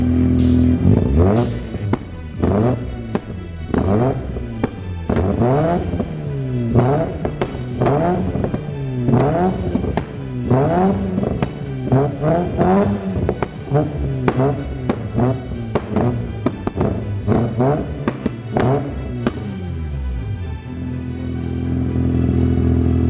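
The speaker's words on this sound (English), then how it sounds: "Better give it a rev, eh?" BMW E36-based truck engine revving repeatedly in rapid bursts, loud and close, with sharp throttle blips and mechanical clatter throughout before settling to idle near the end.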